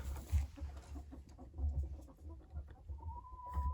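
Hens clucking in a coop, soft low murmuring clucks repeating irregularly throughout, close but faint, with no talk over them.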